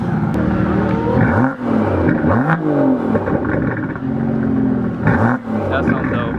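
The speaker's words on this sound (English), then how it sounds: "So Jake is gonna rev it for a little bit." A McLaren supercar's engine revs hard over and over at close range during a highway takeover drive meetup, its pitch sweeping up and falling back between blips above a steady rumbling idle.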